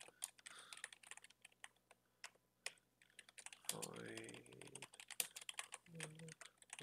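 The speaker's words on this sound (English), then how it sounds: "let's write our code." Computer keyboard typing while code is being written, a steady run of soft, close key clicks with brief pauses, partly under intermittent speech.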